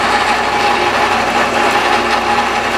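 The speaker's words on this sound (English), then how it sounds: "I have like a carbide tip on here, and once I'm done, I'm kind of just basically going through this and trying to open up the plenum here." A carbide-tip rotary cutter grinds out the plenum of a Holley dual plane EFI intake manifold, a steady, loud, high-pitched whine with constant grinding texture throughout, no voices.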